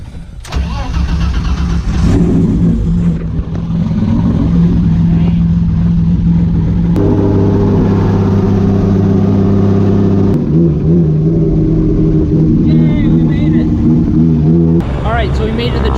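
Car on the way to a drift track, engine loud and steady inside the cabin with rising and falling revs and shifting tones, voices talking over it.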